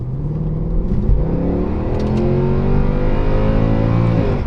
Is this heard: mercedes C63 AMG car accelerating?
yes